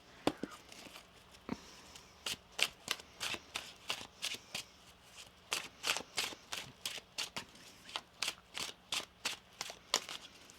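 Cards are shuffled repeatedly up close, a quick series of crisp riffling bursts with short gaps between them, no voices.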